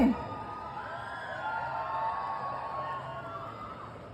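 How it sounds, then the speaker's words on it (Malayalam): A stage-event crowd, indoors and close, whoops and cheers in a steady sustained roar with scattered yells over a continuous wash of noise, and no clear break in the sound. "നല്ല കിടലം കൈയടി കൊടുക്കോ"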